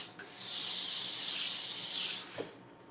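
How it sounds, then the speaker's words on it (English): A LauraStar steam iron lets out one long, loud, steady hiss of steam lasting over two seconds, cutting off sharply before a faint click. "that LauraStar powerful steam really sets that in place"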